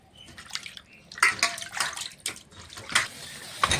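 Tilapia fish is rinsed by hand under running water, with irregular splashes, sloshes and drips close by, louder bursts coming in uneven clusters.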